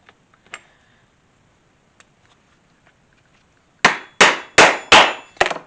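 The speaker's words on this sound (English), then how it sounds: "And go ahead and set that rivet." A hammer sets a rivet in a leather flashlight holster with five loud, close, evenly spaced metallic strikes, preceded by a few faint taps and clicks.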